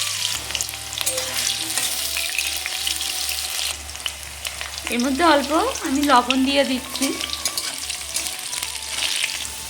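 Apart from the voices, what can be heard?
potatoes frying in mustard oil in a wok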